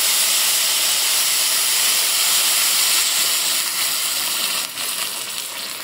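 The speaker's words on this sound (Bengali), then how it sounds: "এই যে আমি আমার পরিমাণ মতো পানি দিয়ে দেবো।" Hot water poured into a pan of frying pulao rice sets off a loud, continuous steamy hiss that fills the whole stretch, easing slightly near the end.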